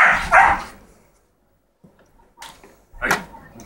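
A dog barks during attack training outdoors, one loud burst at the start, then a pause and a few scattered barks and yips later, close by with no talk.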